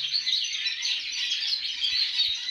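A canary sings a bright, continuous run of rapid trills and twittering phrases in imitation of goldfinch song, loud and close, with no voices.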